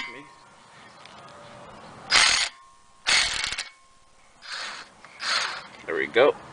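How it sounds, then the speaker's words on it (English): An impact tool works a 6mm hex bolt on a BMW E60 5 Series during front wheel bearing work, firing in several short loud bursts separated by pauses, with quieter mechanical handling sounds and a voice speaking in between. "Let me use my impact tool"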